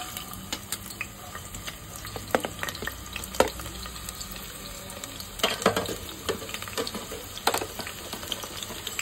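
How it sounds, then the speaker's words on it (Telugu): Onions go into hot oil and sizzle steadily while being stirred for a mutton aloo curry, a close, continuous frying hiss with scattered scraping clinks and no talking. "ఆయిల్ హీట్ అయ్యాక ఆనియన్స్ వేద్దాం।"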